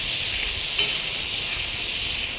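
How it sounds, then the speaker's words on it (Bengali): Hilsa fish heads fry in hot mustard oil in a pan, a steady loud sizzling hiss close by with no voices. "আমি ইলিশ মাছের মাথাগুলো ভেজে নেবো বলে তেল দিয়ে দিয়েছি, সর্ষের তেল।"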